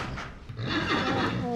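A young horse under veterinary treatment lets out a sustained whinny from close range. It rises over a stable background while people speak nearby.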